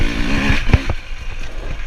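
A 2020 Husqvarna TX300i two-stroke dirt bike engine revs loud and close on a mountain trail ride, a raspy drone with sharp throttle blips around the middle.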